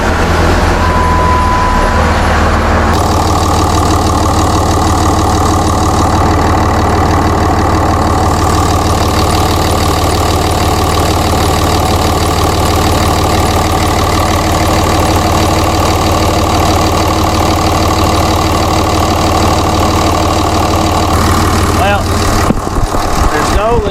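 A 2006 Ram pickup truck engine runs at a steady idle, a loud continuous low rumble throughout with a brief disturbance near the end.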